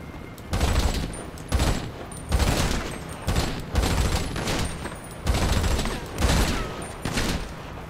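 Repeated bursts of gunfire in GTA 5 Online, heavy cracking shots in irregular clusters roughly every half second to second, loud and close, continuing through the whole stretch without talk.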